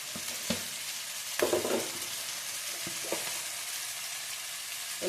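Cumin seeds frying in oil for an Andhra-style ridge gourd chutney, a faint even sizzle broken by a few light taps and a short scraping stir near the start and middle, quiet and close.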